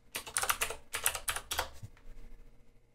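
Quick bursts of typing on a computer keyboard, close and clear, with several rapid clusters of key clicks over about two seconds before trailing off.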